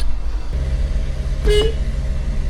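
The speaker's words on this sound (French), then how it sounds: "Pourquoi il est nul ton klaxon?" A car horn gives one short, fairly weak toot near the middle, over a steady idling engine hum close by.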